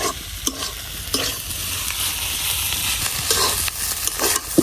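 Carp fish roe is stir-fried in a pan, with a continuous sizzle broken by repeated scraping strokes of a spatula at an uneven rhythm, close and moderately loud.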